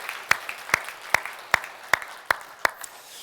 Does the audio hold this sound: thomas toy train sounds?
no